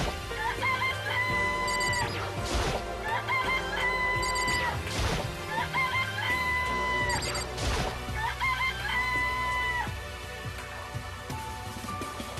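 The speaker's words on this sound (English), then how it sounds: "I'm gonna harass all these chickens." Repeated chicken clucking and squawking in Danganronpa, bursts of fowl calls recurring every couple of seconds with sharp crashing hits between them, steady and fairly loud throughout.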